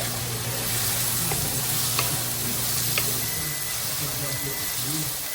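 Soaked sago and pumpkin stirred together in a frying pan give a steady, close sizzle and mixing scrape, with a voice talking faintly over it.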